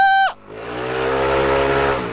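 A motorcycle with worn clutch lining revs as the throttle is twisted: a brief high, whistling squeal at the start drops away, then a loud, steady engine roar holds with a thin whine riding on top.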